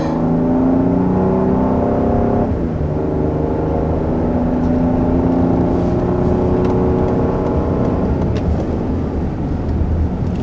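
A 2020 Lincoln Aviator engine builds under hard acceleration, a loud, steady rising drone with a gear change about two seconds in before the pitch climbs again.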